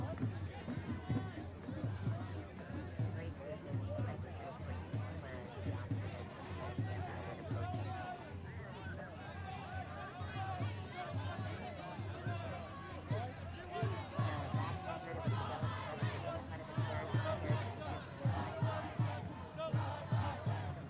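Large street protest crowd during the N30 demonstrations, a dense continuous hubbub of many voices with shouts and footsteps, steady and close all around.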